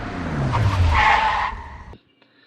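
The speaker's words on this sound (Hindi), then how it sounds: "डर के मारे उसने जोर से गाड़ी का ब्रेक दबाया" A truck on the Mumbai Pune Expressway brakes hard, its tires skidding with a loud, close screech that swells for about a second and a half, then cuts off sharply.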